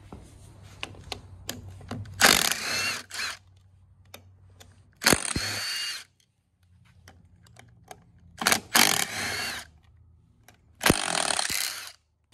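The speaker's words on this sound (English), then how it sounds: "And you've got bolts, you got one bolt here in the middle. We're gonna take all them out." Short bursts of a power tool remove transmission case bolts on a Polaris Ranger 800 XP, with four separate whirring runs of a second or so each spaced apart, separated by quiet low hum and faint clicks.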